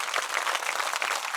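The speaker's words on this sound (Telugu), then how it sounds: "మరి మా ఇద్దరు గురుస్వాములకు ఒకసారి గట్టిగా చప్పట్లు కొట్టండి" An audience at a devotional gathering gives a short round of applause for two guru swamis, a quiet, distant patter of many hands clapping.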